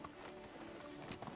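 A horse's hooves clip-clop steadily in Medieval Dynasty, a quick run of close, moderately loud hoofbeats with faint background ambience.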